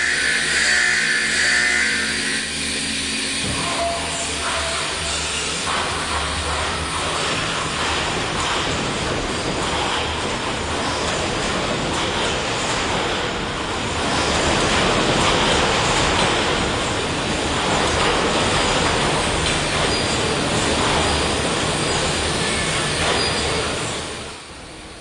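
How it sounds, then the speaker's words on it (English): An earthquake shake table reproducing full six-degree-of-freedom motion while testing a black box, giving a loud, continuous mechanical roar and rumble that swells midway and fades out near the end, with no speech. "all the motions you can see in a real earthquake are duplicated by this machine"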